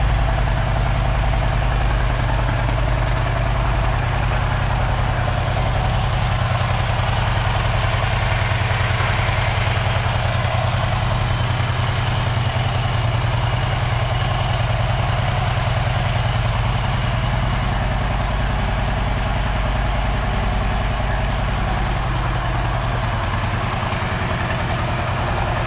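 A 2006 Harley-Davidson Street Bob V-twin with a standard exhaust idles steadily and close by, a constant low, throbbing rumble that continues unbroken throughout with no talking.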